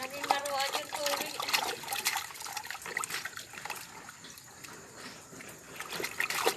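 Water splashes and sloshes continuously as people play in it at Cavinti, Laguna, with voices calling out over the splashing, loudest near the start.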